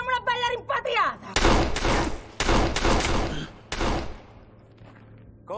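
Gunfire in an Italian anti-mafia crime drama: several loud, close bursts of shots in quick succession, preceded by brief shouting voices, then tailing off into quieter background.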